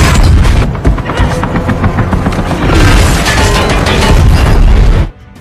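Film cannon shot blasting an enemy helicopter into an explosion, a loud sustained roar of booming blast and crashing debris that cuts off abruptly at the end.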